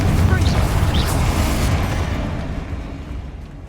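Confringo fire spell blasts in Hogwarts Legacy, a booming, rumbling explosion with a sharp onset that slowly dies away over several seconds, loud and close.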